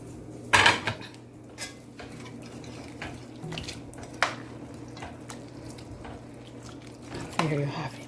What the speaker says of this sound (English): I'm just going to tip some water right in here